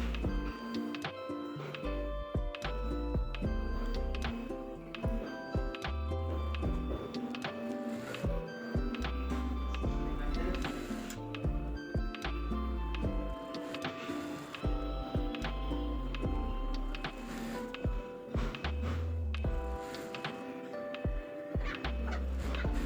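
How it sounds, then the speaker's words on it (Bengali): A sewing machine runs steadily, stitching the rubber elastic waistband of a pajama, with a busy rhythmic mechanical chatter that barely pauses throughout. "এখন আমি রাবারের গড়টা সেলাই করে নেব।"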